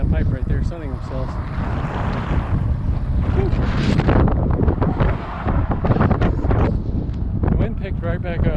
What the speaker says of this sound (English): The wind picked right back up as I turned the camera on